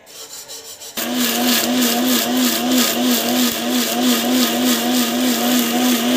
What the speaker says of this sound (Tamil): மிக்சிக்கு போட்டு அரைச்சிடலாம்